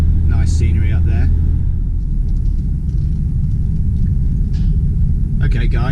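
A car's engine and road rumble fill the cabin on a drive up toward El Burgo, a steady low drone throughout, with a voice speaking intermittently over it.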